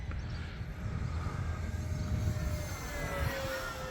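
A small propeller-driven E-flite P-47 Razorback model plane drones steadily overhead while flying inverted at high throttle, its engine whine holding a constant pitch with a slight rise as it passes, no voices present.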